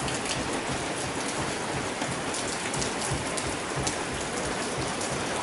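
Steady rain falls in the mountains, a loud, dense and unbroken hiss of drops pattering on surfaces, continuous with no voices.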